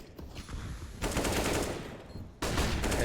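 AK rifle firing in the video game CS:GO during a competitive match, close rapid bursts of automatic gunfire with sharp cracks, coming in two volleys separated by a brief drop in level.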